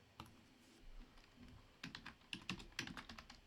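Someone types on a computer keyboard while setting up photo backup folders: quiet, close key clicks in scattered bursts that grow denser and sharper toward the end, with no talking.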